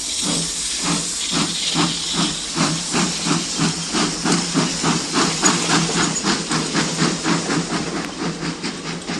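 Steam engine chuffing and hissing, a loud continuous rush of steam cut into a fast, steady rhythmic beat of exhaust puffs, close up and with no voices.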